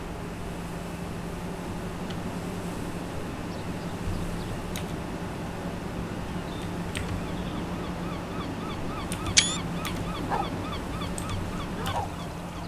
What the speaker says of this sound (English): Seeing the seagulls in the background.